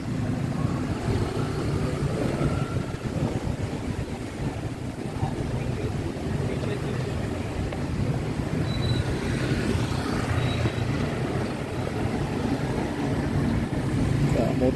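Busy road traffic on Sukhumvit 11 in Bangkok, with taxis and tuk-tuks, forms a continuous loud roar of engines and street bustle, a dense steady wash with a faint crowd murmur underneath.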